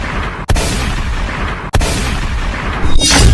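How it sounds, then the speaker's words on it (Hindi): Heavy, continuous roaring blast noise from an action film's bomb explosion fills the clip, loud and close, with two brief dropouts and a brighter surge of debris near the end. "लेकिन अब तुम्हें दिखेगा बॉम्ब ब्लास्ट।"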